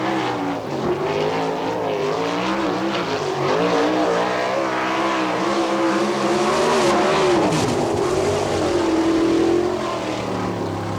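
A sprint car runs a qualifying lap at an All Star Circuit of Champions race in Findlay, Ohio, its engine roaring hard and continuously, the pitch rising and falling as it revs through the turns.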